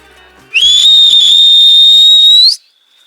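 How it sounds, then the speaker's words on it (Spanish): One long, loud sustained whistle on a steady high note at Masada, bending upward at the end, followed by a faint echo trailing off. "Acá donde se escucha ese eco tan brutal, vamos a chiflar."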